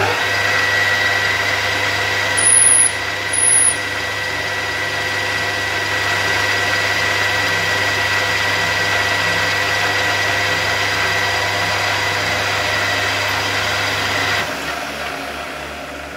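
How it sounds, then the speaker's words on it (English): Machine steadily running as a lathe parting tool cuts off a hardened steel pin, a continuous even hum with a constant tone for about fourteen seconds before it winds down, two brief high squeals near the start. "I'm just cutting it off now. I'm just using a parting tool."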